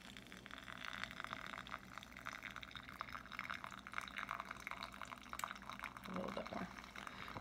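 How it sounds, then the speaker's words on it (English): Hot water is poured over ground coffee in a pour-over dripper, a faint, continuous trickling and splashing stream that runs steadily throughout, quiet and close. "So I have my coffee already prepared in my pour over and my water is ready, so I'm just going to go ahead and pour it over."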